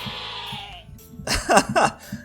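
Blue sheep in the Terracards video game, heard as a couple of loud, close, wavering bleats after a quieter stretch of game sound effects.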